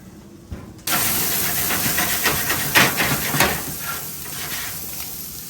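Steak hitting a hot pan, kicking off a sudden loud, steady sizzling hiss that crackles and pops close by for several seconds with no talking.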